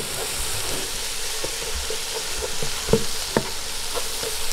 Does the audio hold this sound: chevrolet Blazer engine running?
no